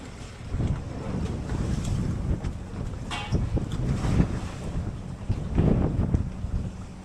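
A fishing boat at sea off Sabah takes strong gusting wind of around force 6 and heavy waves, with a constant rushing wind blast, sloshing surf and occasional knocks and clatter aboard.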